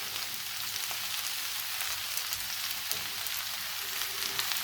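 Meat frying under a lid in a full skillet, a steady soft sizzle and crackle running continuously at moderate level with no talk.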